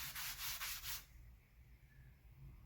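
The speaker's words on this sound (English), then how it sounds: "A lot of people brush on their stain. I love rubbing it on like that." A hand rubs pecan wood stain mixed with poly onto a wooden tabletop piece, giving a close, fairly loud pulsing scrub for about a second before it fades to quiet room tone.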